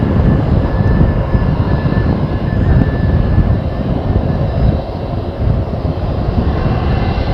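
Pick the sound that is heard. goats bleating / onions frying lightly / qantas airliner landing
qantas airliner landing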